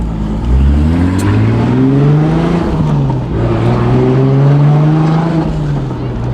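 A big-turbo 2JZ Supra under hard acceleration during a ride-along, its engine note climbing loudly through the revs, briefly dipping at a shift, then rising again, heard from inside the cabin.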